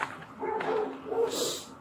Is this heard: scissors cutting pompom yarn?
no